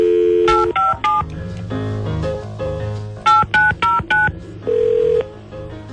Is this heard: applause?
no